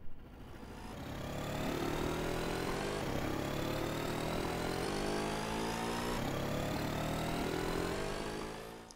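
An engine revving continuously, a steady buzzing drone with pitch rising and falling in a few waves, no voices.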